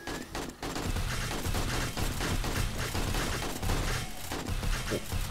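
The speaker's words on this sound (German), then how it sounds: "Hauptsache die Geschütze ballern." Rapid, continuous automatic turret gunfire during a day-14 horde night in the video game 7 Days to Die, with a dense, steady barrage of loud shots running through the whole stretch.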